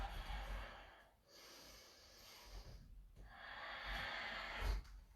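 Slow, steady breaths drawn in and pushed out through the nose during a yoga session, two long cycles with soft airy hiss, close and quiet with no talking.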